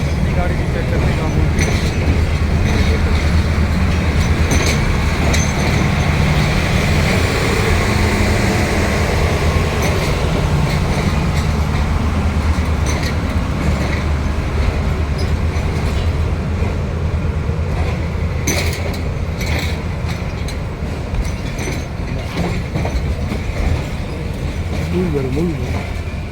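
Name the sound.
Jaffar Express passenger train running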